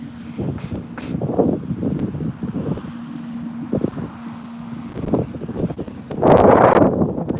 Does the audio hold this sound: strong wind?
yes